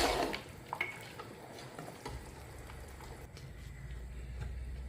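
Biryani being stirred in a pot of rice, soft scraping and grainy churning sounds with occasional utensil knocks against the vessel, steady and close.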